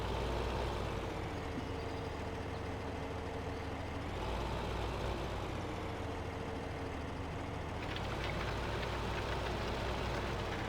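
A tractor engine idles in Farming Simulator 15, a constant close diesel rumble with a steady knocking throb, unbroken for the whole stretch and with no talk.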